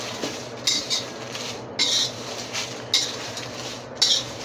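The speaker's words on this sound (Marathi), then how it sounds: "करपू नये असं हलवीत राहायचं. छान असं लालसर भाजायचं आहे." Black masala spices roasting in a pan are stirred with a metal utensil, giving repeated scraping clinks in an uneven rhythm over a steady low background, close and moderately loud.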